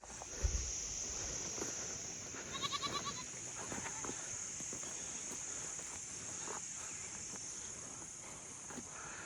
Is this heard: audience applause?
no